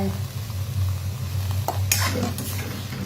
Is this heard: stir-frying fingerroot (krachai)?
yes